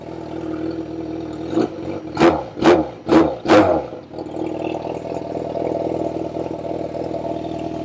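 A Yamaha FZ6R motorcycle engine idles steadily during a throttle body sync, then the throttle is blipped four times in quick succession, each rev rising and falling sharply before the engine settles back to a steady idle.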